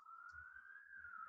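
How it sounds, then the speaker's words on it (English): A single siren passing outside, heard as a faint, steady wailing tone that slowly rises and falls, distant and muffled, with low rumbling traffic noise underneath. "There's a siren coming on my side"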